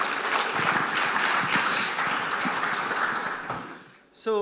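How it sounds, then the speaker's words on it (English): An audience at an aviation industry event applauds to welcome a speaker, steady clapping with some talk underneath that fades toward the end before a short tonal sound. "let's welcome him with a huge round of applause"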